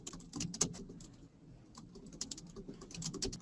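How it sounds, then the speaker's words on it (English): Quiet, close keystrokes on a computer keyboard in irregular bursts, with short pauses between runs of typing and no voices. "So I'm going to type up some comments here."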